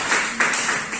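A classroom group claps after a presentation, a short burst of scattered hand claps from several people, fairly close and lasting about a second.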